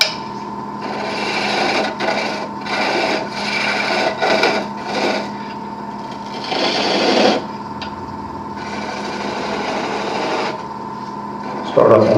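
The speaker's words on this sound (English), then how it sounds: "Now all I got to do is make a bead in the center." Woodturning tool cutting a bead on a spinning wood lathe, rasping scrapes in repeated short strokes over a steady motor hum, close and moderately loud, with a voice talking through parts of it.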